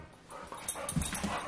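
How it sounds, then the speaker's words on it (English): Pet dogs whimper and yip indoors, wanting to go outside, with faint short whines growing louder toward the end in a quiet room. "these dogs are pissing me off"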